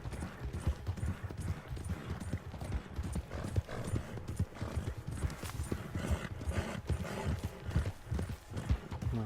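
Horse hooves clip-clop in a steady, rhythmic gait in the Red Dead Redemption video game, loud and continuous throughout, with occasional faint snorts.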